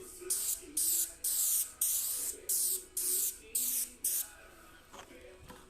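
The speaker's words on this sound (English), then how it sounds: "the idea is to spray both sides, let it tack up, put plenty on if you can" Eight short, loud bursts of contact adhesive spray in a steady rhythm, each a sharp hiss, followed by faint rustling.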